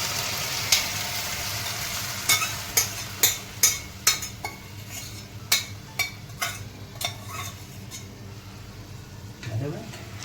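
Red chutney is stirred into a red cowpea curry frying in a pan, giving a low sizzle under a series of sharp spoon taps and scrapes against the pot, followed by a final stirring rustle.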